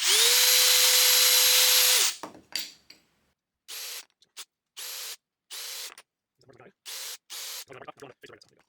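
A power drill drives 4-inch screws into wide wooden blocks for a wall-mounted clamp rack, with one long, loud, high whine followed by several short, close bursts separated by brief pauses.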